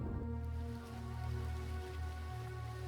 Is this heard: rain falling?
yes